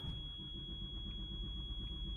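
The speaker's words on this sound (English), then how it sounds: "Come on, baby, start up." A 2008 Fleetwood Discovery motorhome engine turns over and runs with a steady, loud low rumble throughout, close by and continuous without pauses or talking.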